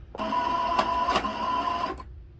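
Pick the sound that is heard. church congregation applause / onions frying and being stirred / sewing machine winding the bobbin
sewing machine winding the bobbin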